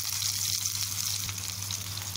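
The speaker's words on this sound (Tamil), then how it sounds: "நான் இதில் கொஞ்சமாக கடுகு சேர்த்துக்கிறேன். இதுலேயே கொஞ்சமாக வெங்காயம்" Mustard seeds and onion fry in hot oil in a kadai, giving a steady, close sizzle with faint crackles and no voices.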